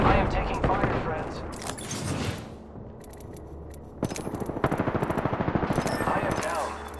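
Rapid video game gunfire from a ranked match, with dense bursts of automatic shots, a sharp blast near the middle, then a steady stuttering stream of near, loud rounds layered with voices and game effects.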